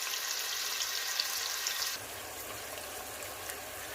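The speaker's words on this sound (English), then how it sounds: "So we are frying our shrimp." Shrimp sizzles and crackles steadily in a hot pan close by, the frying hiss dropping a little partway through.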